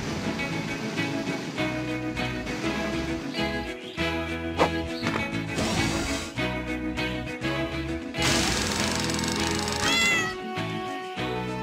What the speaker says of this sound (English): Look, that cat up in the tree.